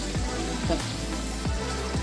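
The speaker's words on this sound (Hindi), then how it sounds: "अब इसमें हम आधा कप गर्म पानी डालेंगे, ज़्यादा नहीं डालेंगे, सिर्फ आधा कप।" Hot water poured into a pan of cooking mutton keema, a brief steady sizzle and bubbling rush close up that carries on throughout without pause.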